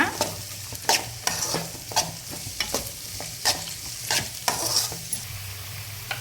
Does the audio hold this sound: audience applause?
no